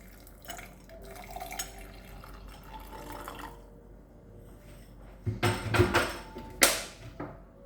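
Lukewarm water is poured for mixing flaxseed. Faint clinks and drips come first, then a louder run of pouring and splashing in bursts toward the end.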